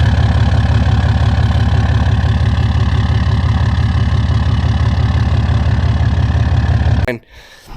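A Cummins diesel engine idles steadily with a loud, close, rhythmic low-pitched clatter and knock, running evenly for about seven seconds before it suddenly cuts off into near silence.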